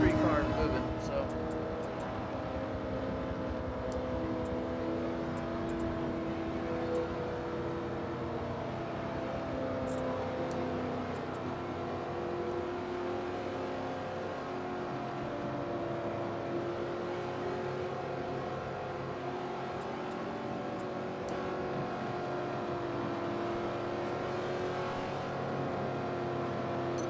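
Race car engines drone steadily in a racing game at Daytona, a continuous mid-level roar with a shifting engine pitch under talking throughout.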